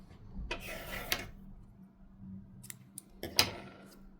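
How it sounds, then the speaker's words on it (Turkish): Scissors snip through crochet yarn in a few sharp cuts, close and fairly quiet, with a small clicking snip near the end and no voices. "Bir zincir yaptıktan sonra da ipi keselim."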